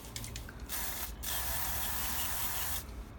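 Cleaner is sprayed from an aerosol can onto the manual gearbox of a 2.2 diesel Honda CR-V MK2, giving a loud, continuous close hiss with a couple of brief breaks.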